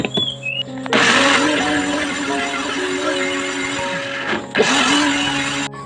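A kitchen blender whirs loudly as it blends sugar and tangerine-type orange for an orange cake batter, running steadily for several seconds, pausing briefly, then starting again.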